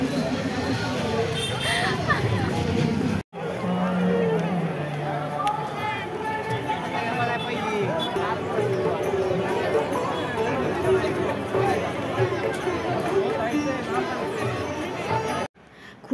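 A dense crowd bustles at the Pune Ganpati festival, a steady hubbub of many voices and movement, with nearby people talking over the din.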